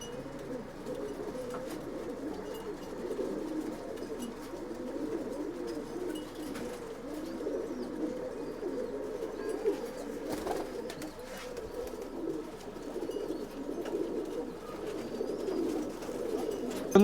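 Soft, continuous cooing from a group of old bloodline pigeons kept for sale in Bangalore, a low rolling murmur that goes on throughout with faint flutters and no speech.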